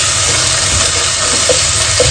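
Ginger garlic paste sizzles and hisses steadily in a hot pan while pulihora is being cooked, with a few soft stirring clicks.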